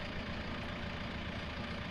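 A tractor engine idles in a steady, even low rumble, fairly quiet and unchanging, with no one talking.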